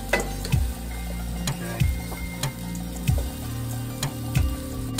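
Shrimp and mushrooms sizzle steadily in a pan while being stirred, with regular scraping strokes and small knocks about once a second over a continuous background hiss.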